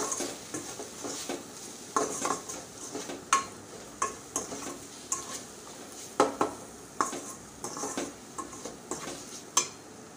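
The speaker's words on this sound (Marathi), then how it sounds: "छान मिक्स करून घ्यायचा आहे।" Spices and garam masala being stirred into green chillies and vegetables in a cooking pan: repeated sharp scrapes and clinks of a spoon against metal, irregular and close, over a faint background sizzle, with no talking.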